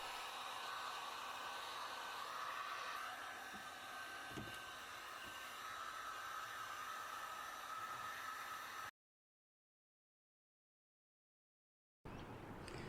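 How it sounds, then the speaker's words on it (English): A heat gun warming a vinyl decal on a car gives off a steady, faint airy hiss and whir for about nine seconds, then cuts to silence before the hiss returns briefly. "I'm going to go up the decal with a nice heat gun just to lock everything in place"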